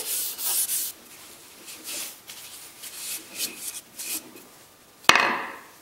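A cloth rubs linseed oil into the wooden handle of a Harbor Freight rip hammer with soft, uneven scrubbing strokes, ending in a sharp knock and a brief rattle near the end.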